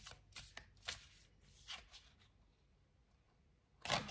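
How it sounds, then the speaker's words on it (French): Tarot-style cards shuffled and drawn during a card reading: soft riffling swishes and dry flicks in short bursts, a quiet stretch, then a sharper close shuffle at the end, no talking. "Il faut que je prenne une troisième carte, on va voir pourquoi."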